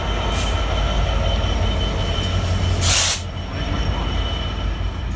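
A Freightliner Class 66 freight locomotive hauls a ballast train past at close range, a loud, continuous rumble of wagons and wheels on rail with a brief sharp hiss of air near the end.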